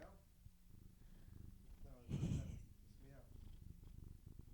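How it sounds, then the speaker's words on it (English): A cat purrs with its mouth right against a microphone, a low rumbling flutter that swells in the middle as she rubs her head on it. Faint voices murmur underneath. "She's purring into the mic."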